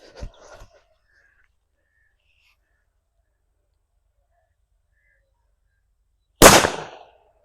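A Valangaiman country firecracker explodes with a single loud, sharp bang near the end after long silence, preceded by a brief faint rustle at the start.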